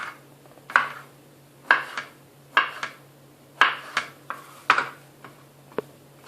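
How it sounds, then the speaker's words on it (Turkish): Knife chopping pickled salad vegetables on a wooden board for a garlic bread sandwich, about eight distinct sharp chops at an uneven rhythm, close and fairly loud, with no voices. "peyniri koymadan evvel salata turşusu hemen doğruyorum"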